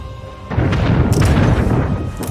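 Ship fleet cannons firing in the game Anno 1800, a cluster of loud booms breaking in after a quieter moment, overlapping deep blasts with sharp cracks that keep rumbling to the end.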